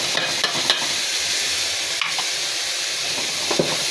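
Spices being stirred into a hot frying pan: a steady bright sizzle runs throughout, with a few sharp scrapes and taps of the spoon against the pan, close up and with no talking.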